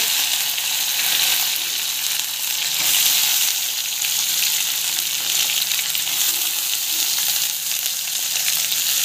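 Ginger, green chili and onion sautéing in hot oil in a pan, giving a loud, continuous sizzling hiss that stays dense and steady with no talking.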